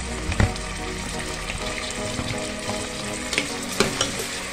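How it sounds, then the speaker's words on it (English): Red and green peppers frying for vegetable rice, with a steady close sizzle and occasional clanks and scrapes of stirring in the pan. "So the next thing is to fry our veggies. So we'll start with the red pepper and green pepper."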